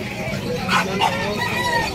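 Chickens and a rooster at a pet market in Bulacan crow and cluck nearby, a loud crow rising over a busy background of fowl.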